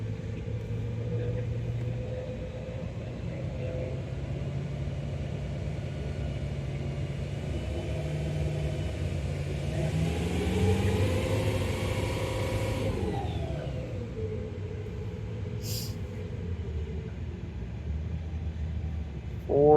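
An L5P Duramax diesel pickup runs on a dynamometer with an Edge Extreme Tune, its steady low rumble swelling into a louder rev midway before dropping back to a deep drone.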